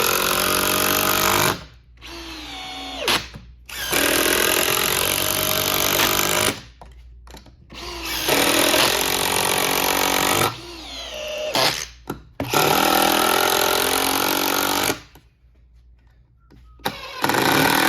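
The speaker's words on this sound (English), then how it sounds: "we're going to be driving these number 8 3-inch screws, 5 of them, into this wood" A cordless drill and an impact driver take turns sinking five number 8 three-inch screws into wood, with loud, close bursts of motor whine and rapid hammering, the bursts separated by short pauses.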